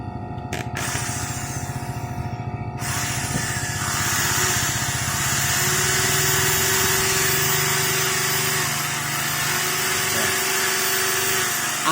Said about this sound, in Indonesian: Terus pakai bor tuh begitu tuh.